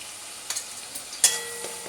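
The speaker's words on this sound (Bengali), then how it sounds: "টমেটোটা ভাজতে ভাজতে দিয়ে দেবো আদা রসুন বাটা।" Tomato fries with ginger garlic paste in a pan, a soft sizzle under a few sharp clinks and scrapes of stirring, close and fairly quiet, with no talking.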